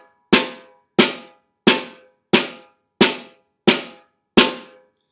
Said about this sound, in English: the first rudiment that we're going to talk about, or sticking, is entitled a single stroke roll